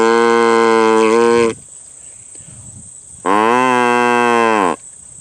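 A homemade bugle cut from a squash stalk is blown in two long, loud, reedy blasts, each about a second and a half, separated by a short pause, with no other sound around them.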